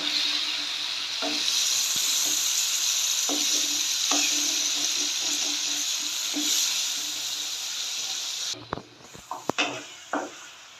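Ginger and tomato paste frying in a pan give off a steady close sizzle with occasional stirring taps, ending in a few sharp utensil knocks as the hiss drops away.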